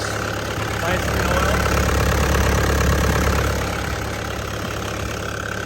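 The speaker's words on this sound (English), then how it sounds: "Exhaust is rattling. That's making the noise." CAT 248B high-flow wheeled skid steer idling with a rattling exhaust, a steady loud close-up engine drone with a continuous metallic rattle throughout.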